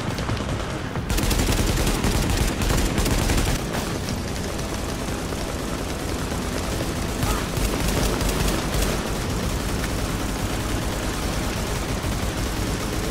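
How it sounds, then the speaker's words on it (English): Gunfire in the shooter game The Division comes as a sustained, dense rattle of shots and booms after a brief lead-in, continuing loudly throughout with no audible talking. "you just point your gun at someone and spam the trigger"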